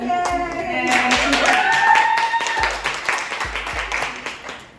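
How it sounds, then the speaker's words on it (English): An audience at a STEAM summer camp presentation claps for an award winner, a short, lively burst of many hands close by, with tonal background sound running through the middle. "All right, everybody give her a clap."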